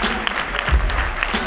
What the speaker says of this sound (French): tu es prête à lancer les applaudissements, Julie?